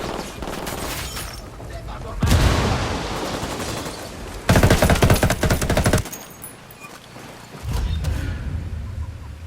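Ghost Recon Wildlands game combat: loud bursts of gunfire and a heavy frag grenade blast come in several separate waves, with quieter battle noise between them and no speech.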